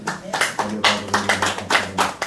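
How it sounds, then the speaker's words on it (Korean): A church congregation applauding in quick, uneven bursts of clapping, with a low steady hum and some voices underneath. "박수 한번 쳐주시고"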